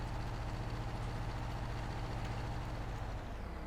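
A big tractor engine in Farming Simulator 19 hauls a load from a standstill, a steady, loud low-pitched drone with a constant rumble throughout and no voices.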